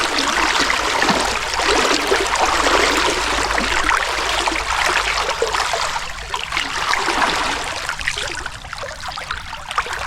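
A stream's current rushes loud and steady close by, a dense broadband wash of flowing water that hardly varies over the stretch, with no voices.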